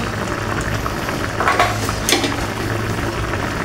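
Sweet and sour sauce boils in a pot, a dense, steady bubbling hiss close by with a couple of slightly louder swells partway through.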